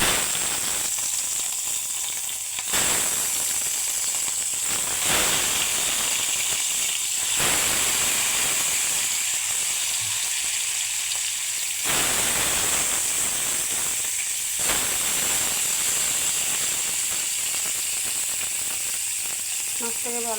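Pieces of rohu fish fry in hot oil, giving a loud, steady sizzle and hiss with sputtering surges every few seconds, heard close up with no talking.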